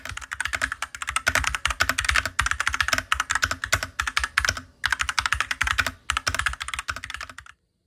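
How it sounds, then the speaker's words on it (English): Steady, fast typing on a mechanical keyboard, crisp clicky keystrokes in a continuous rhythm with a couple of brief pauses, close and clear with no talking. "I'll give you a quick keyboard sound test"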